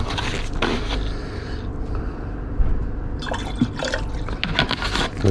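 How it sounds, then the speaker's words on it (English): Nitric acid poured into a liquid to make aqua regia for gold refining, heard as a continuous splashing, trickling pour with small drips and clinks close by. "A little bit of nitric acid to form aqua regia."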